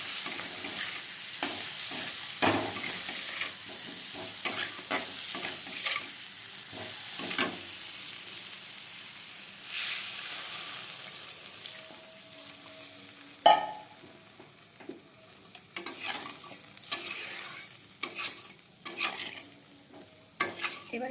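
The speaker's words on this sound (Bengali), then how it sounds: "এরপর আরও ভালো করে নাড়িয়ে চাড়িয়ে জল দিয়ে দেব পরিমাণ মতো।" Spice masala frying in a pan for a potato and egg curry, stirred repeatedly with a spoon, so scraping strokes come in irregular bursts over a continuous close sizzle.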